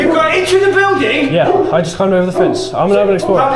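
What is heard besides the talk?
No everyday noises stand out.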